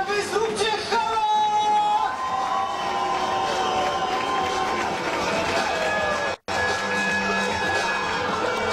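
A sports-hall crowd at a Topliga American football game between Giants Wrocław and Devils Wrocław cheers and whoops loudly and continuously, with an announcer's voice over the noise before a brief drop-out.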